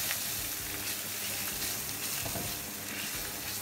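Breadcrumbs and capers fry in oil in a pan, giving a continuous crackling sizzle with small pops, close and moderately quiet, with no voices.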